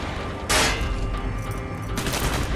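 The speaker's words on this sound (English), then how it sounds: "Gunfire's drawing attention." Gunfire rattles in the Call of Duty: Black Ops campaign, with two loud bursts of shots over a dense, rumbling battlefield din and no voices.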